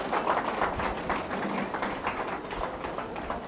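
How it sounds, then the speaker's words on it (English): Audience applause at an award ceremony, a dense patter of many hands clapping steadily and evenly for several seconds, moderately loud and unbroken. "Can we have a huge round of applause for both of the men on stage?"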